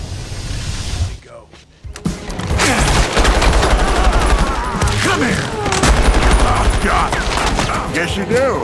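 Gunfire breaks out in a Spider-Man superhero TV drama scene, with dense rapid bursts of automatic weapons and shots ringing out loudly after a brief pause, mixed with shouting voices and dramatic action sound.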